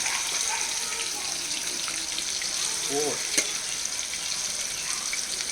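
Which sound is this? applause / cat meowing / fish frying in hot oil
fish frying in hot oil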